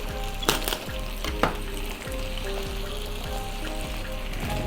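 Baby carrots go into a hot pan for a squash and carrot curry, setting off a steady close sizzle with a few sharp clattering clicks near the start.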